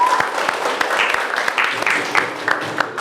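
Classroom of students doing the "tepuk cinta" rhythmic group clap, sharp clustered hand claps in an irregular pattern, mixed with voices chanting along in the room.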